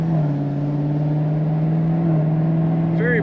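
A 2024 Chevrolet Camaro ZL1 convertible with automatic transmission hums steadily from the exhaust under acceleration, a close, sustained low drone that holds level throughout, with a brief chirp near the end.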